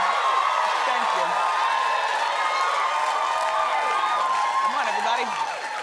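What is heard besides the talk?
studio audience applause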